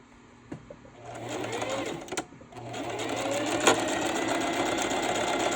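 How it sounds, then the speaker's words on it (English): A sewing machine back stitching through slippery fabric for a Dollar Tree bunny bag, running in a steady, fairly loud whir for most of the stretch with a few short pauses and clicks between bursts. "I'm definitely going to be doing some back stitching"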